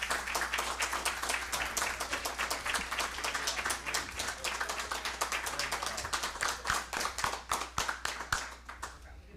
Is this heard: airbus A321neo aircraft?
no